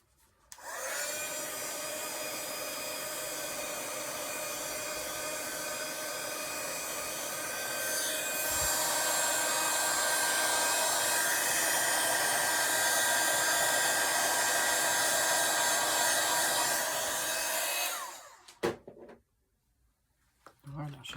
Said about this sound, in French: Je vais le sécher.